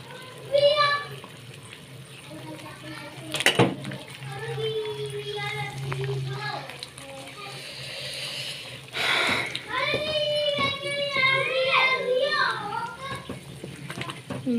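Children chatter and make noise in a home kitchen while rice and chana dal are being cooked, with high young voices coming and going. Water runs at times, and an adult talks nearby.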